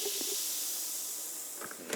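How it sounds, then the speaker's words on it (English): Peach mango sparkling water poured into a mug gives a steady, close fizzing hiss of carbonation with a few faint clinks near the end. "last but not least, you fill in the peach mango sparkling water into"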